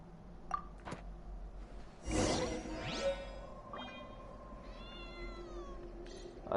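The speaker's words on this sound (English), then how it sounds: "I hear a cat." A cat in the video game Genshin Impact gives several meows, one drawn-out sweeping cry in the middle and shorter calls around it, mixed with a whooshing effect over quiet game ambience.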